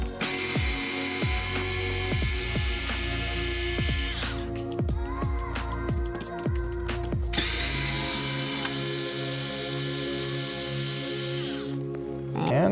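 A ratcheting tool backs out three T15 bolts from a vehicle visor, with repeated rapid ratchet clicks and whirring mechanical spins in close, loud bursts separated by brief pauses.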